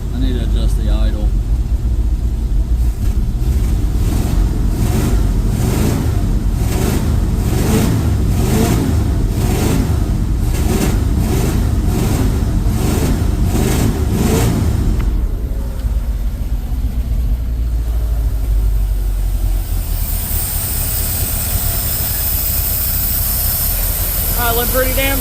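A Ford F350 truck engine idles with a steady, low, pulsing rumble close by. Its tone shifts partway through, and a hiss joins near the end.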